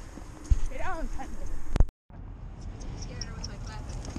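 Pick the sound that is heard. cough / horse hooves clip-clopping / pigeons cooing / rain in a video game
horse hooves clip-clopping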